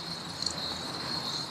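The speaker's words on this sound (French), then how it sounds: "Ça ressemble vraiment à des petits robots avec ce bruit de grillon qui vient s'incorporer dans l'espace" A sound art installation in a château exhibition plays a steady, high cricket-like chirping that fills the room, soft and continuous with slight flickers, and no voices.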